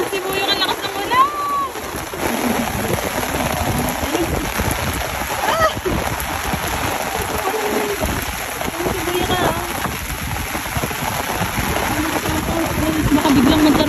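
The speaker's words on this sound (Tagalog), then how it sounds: "ang lakas ng ulan" Heavy rain pours down on a small boat caught in a storm at sea, making a dense, constant hiss and splatter. Voices talk over it throughout, and the downpour grows louder toward the end.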